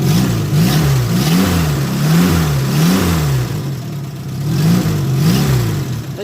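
Close, loud revving from a Renault 10 engine with carburettor problems and a slight exhaust leak: the throttle is blipped repeatedly in a regular rising and falling rhythm, dropping briefly toward idle between bursts.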